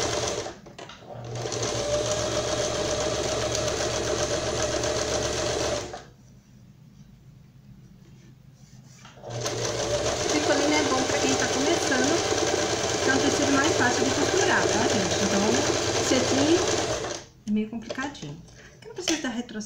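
Sewing machine running steadily while stitching a small Barbie doll dress, two long bursts of continuous whirring separated by a few seconds of quiet, loud and close.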